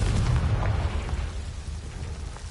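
Confringo explosive spell cast in Hogwarts Legacy, a loud low rumbling blast right at the start that slowly fades into a lingering rumble, with no talking.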